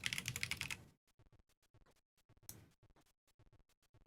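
Computer keyboard keys clack in quick irregular bursts of typing, close and crisp, with short pauses between clusters and a brief louder noise at the start.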